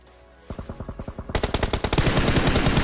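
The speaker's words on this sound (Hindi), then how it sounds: "अब मैं फायरिंग देता हूँ" Rapid automatic gunfire in a mobile shooting game, an AMR among the weapons, starts after a short pause as loud, evenly spaced bursts that grow denser and louder toward the end, with no talk.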